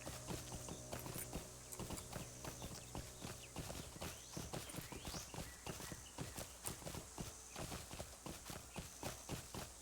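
Horse hooves clip-clop at a steady walking rhythm in the online game Lord of the Rings Online, a continuous run of close, regular hoofbeats over a faint ambient hum with no talking.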